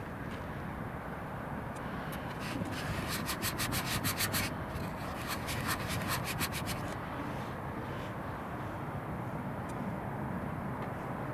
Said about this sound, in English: Just need to wipe a couple of droplets off the screen,